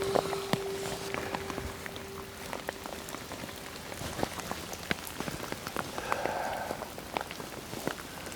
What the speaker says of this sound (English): It is absolutely raining cats and dogs.